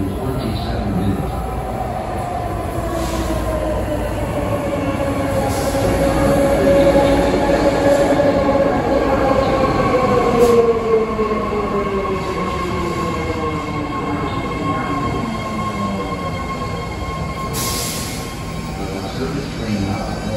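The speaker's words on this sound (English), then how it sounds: "Ten car, two-door train for Midway Caltrain Station" A BART train rumbles through a station with rising and falling wheel squeals and clatter, fairly close, with faint voices in the background.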